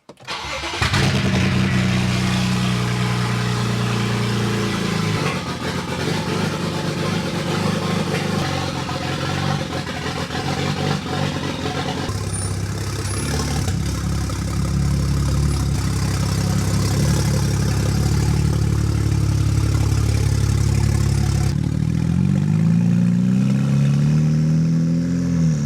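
A BMW 335i wagon engine cranks and catches inside a garage, then settles into a loud, steady idle close by with a few revs, running alone without talk.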